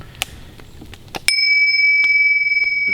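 A single bright metallic strike on a Tibetan instrument that vibrates with 13 tones rings out, its clear tone sustaining and shimmering steadily after some soft taps and rustles.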